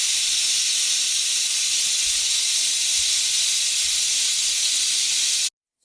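A loud, continuous hiss of steam escapes from a pot of cooking beef tehari, holding steady for several seconds before cutting off abruptly.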